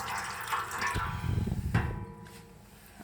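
Water poured into a baking tray for canning jars, a close, splashing, gurgling pour that runs for about two seconds before tapering off into quieter trickles.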